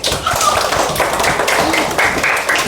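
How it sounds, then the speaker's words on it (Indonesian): A classroom of students clapping for a classmate, a short burst of quick, scattered hand claps filling the room at close range. "Oke, tepuk tangan buat kita."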